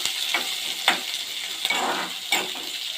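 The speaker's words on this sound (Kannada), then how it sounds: "ಸ್ವಲ್ಪ ಫ್ರೈ ಆಗಲಿ," Onions frying and softening in a pan for a spicy potato gojju, a steady close sizzle broken by a few sharp scraping stirs with no talking.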